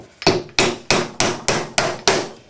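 Seven sharp, evenly spaced hammer blows drive a nail into the wood of a bluebird house. The strikes are loud and close with a steady rhythm, and no voices are heard.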